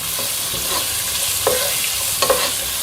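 Finely chopped large onion fries in a pan while being stirred, giving a steady, close, loud sizzle with soft scraping strokes throughout.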